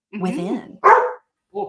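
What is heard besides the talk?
dog barking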